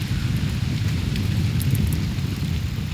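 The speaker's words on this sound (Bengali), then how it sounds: "ভাই কি বৃষ্টি শুরু হইলো আজকে" Heavy monsoon-style rain pours down steadily in a dense, continuous hiss with low rumbling underneath, close and even throughout with no voices.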